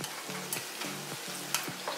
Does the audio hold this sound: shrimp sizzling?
yes